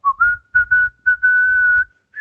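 A person whistles the nursery tune The Farmer in the Dell alone, a clear, close melody in several short phrases followed by one long held stretch, with no talking.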